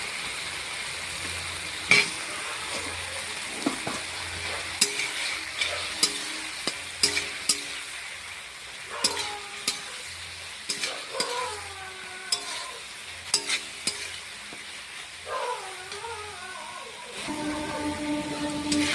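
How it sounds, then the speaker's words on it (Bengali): Fried potatoes stirred through spice masala in a pan for a fish curry: a low continuous sizzle with frequent scraping and clinking of a spoon, close and moderately loud, with brief background noises near the end. "আলুগুলো দিয়ে একটু সময় কষিয়ে নিয়ে"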